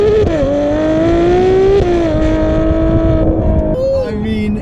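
A Ferrari V12 sports car engine revs hard and loud in race mode, pitch climbing in steps through gear changes with brief dips between, sustained and close.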